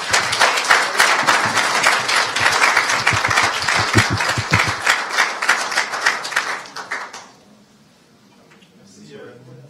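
An audience claps at the close of a presentation at a mining investment conference in Geneva, a dense, loud patter of many hands that fades out near the end into quiet room sound.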